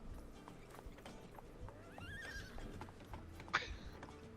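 Horses in a town, with a soft clip-clop of hooves running throughout and a rising, wavering neigh near the middle, followed by a brief sharp whinny, all fairly faint and with no talk.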